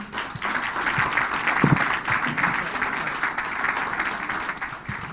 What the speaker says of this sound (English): Let's keep clapping, ladies and gentlemen